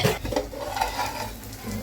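Chopped onion and tomato sizzle and crackle in hot oil in a home kitchen pan while making dosa, with steady frying hiss and occasional stirring scrapes, close and moderately loud.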